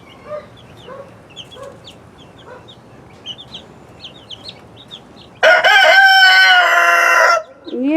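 A hen clucks steadily near her young chicks outdoors, with soft peeping in the background, then a loud, sustained crow from a rooster bursts in and drowns out everything else for about two seconds.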